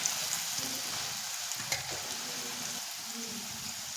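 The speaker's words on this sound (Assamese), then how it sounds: "অকণমান ভাজি লৈছোঁ।" Red chili, coriander and cumin powders frying in a pan for Assamese sour fish curry, a steady broad sizzle running evenly throughout with faint stirring scrapes, no talk.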